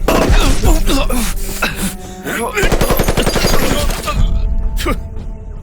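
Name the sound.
gunfire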